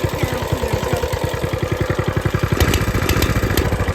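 A Coleman 196cc mini bike engine idles with open headers, giving a rapid, loud, bubbling chain of exhaust pops up close, with the beat quickening slightly partway through.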